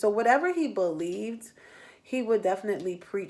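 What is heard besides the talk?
No distinct noise like a dog, phone or traffic.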